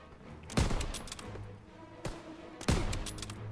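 M1 Garand rifle fire in the Call of Duty WWII video game, three sharp, loud shots spaced unevenly, each ringing out with a short echoing tail over quiet battlefield ambience.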